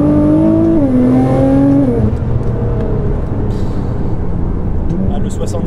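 A tuned 700-horsepower Nissan GT-R Stage 3+ engine revs and rumbles loudly at first, then settles into a low steady drone as the car accelerates.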